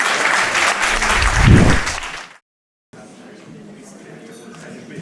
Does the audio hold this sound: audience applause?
yes